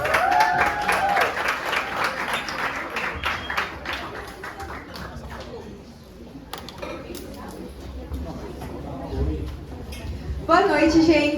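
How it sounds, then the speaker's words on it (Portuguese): An audience at an evening religious class applauds with moderate, scattered clapping that follows a speaking voice, with more voices chatting near the end. "Salva de palmas!"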